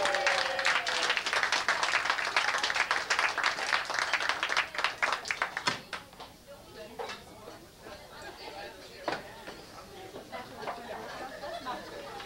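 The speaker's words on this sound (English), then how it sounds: "Let's have a round of applause for Christy over here" An audience applauds for Christy at a live show, dense clapping filling the room for several seconds before thinning into scattered claps and chatter as people settle.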